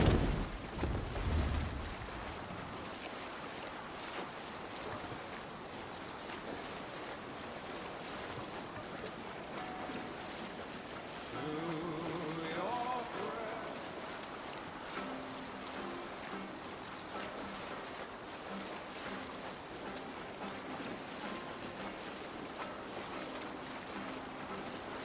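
Wind and sea wash steady around a sailing ship at sea in Assassin's Creed Valhalla, a low rumble of waves and hull with a brief louder burst at the start, faint creaks midway, and no talk.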